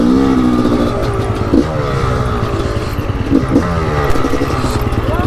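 Gas Gas 300 two-stroke motocross bike engine running steadily nearby, a loud, continuous buzzing drone with slight throttle swells.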